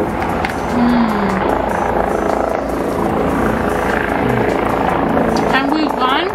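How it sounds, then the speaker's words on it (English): A helicopter's steady rotor thrum fills the background, loud and continuous, beneath chatter and street noise. "That damn helicopter."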